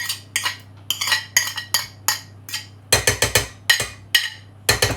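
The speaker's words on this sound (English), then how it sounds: "Just stir that in, and you can stir in now your mashed banana." A spoon stirs mashed banana into cake mixture in a saucepan, a run of sharp, close clinks and scrapes against the metal in an uneven, quick rhythm, with no talk.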